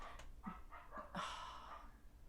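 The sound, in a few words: dog barking at cows by the fence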